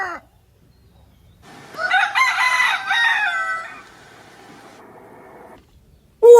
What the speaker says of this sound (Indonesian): Ternyata ayam jago.